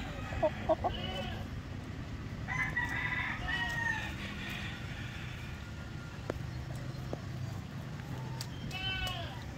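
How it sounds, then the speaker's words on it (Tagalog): An Asil rooster on a small egg farm crows loudly near the start and again at the end, while other fowl cluck and faint voices murmur in the background. "So yung rooster natin asil yan"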